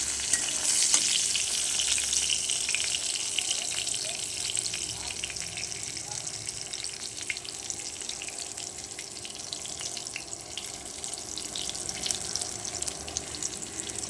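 Pieces of aair fish frying in hot oil give a steady, close sizzle with a bright hiss that runs for the whole stretch and eases slightly midway. Nobody speaks over it.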